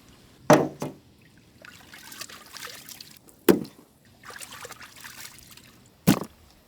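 Water poured in three sharp splashes over a mutton head being washed clean in a village kitchen, each pour a short loud gush with quieter trickling and handling sounds in between.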